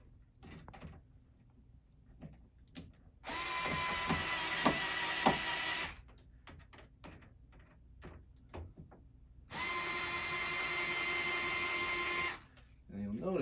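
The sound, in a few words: screwing in a screw while installing a Shepherd lock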